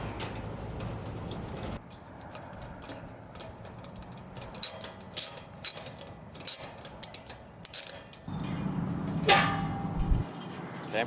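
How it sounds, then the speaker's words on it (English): A ratchet wrench clicks in short bursts while the bolts on a chimney cap are loosened, close and metallic, with quiet pauses and scraping between runs of clicks. "Need to loosen up these 3 bolts here."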